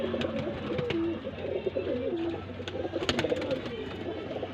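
Golden teddy pigeons coo in low, rolling bursts close by, repeated calls overlapping with some handling noise and a bit of background bird chatter.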